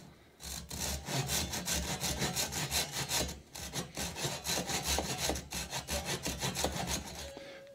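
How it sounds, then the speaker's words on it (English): A pull saw cuts a notch in a wood block for a T-track install, its steady, rhythmic rasping strokes close and continuous for several seconds before the cutting stops. "Then we're going to cut out a notch in the middle. I'm going to be using a pull saw."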